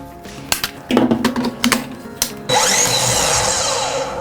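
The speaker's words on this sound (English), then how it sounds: "This miter saw. So this is no ordinary miter saw. This one actually runs off of batteries." A Craftsman V20 battery-powered cordless miter saw makes a few short clicks and bumps, then its motor spins up into a loud, steady high-pitched whine that holds for about two seconds.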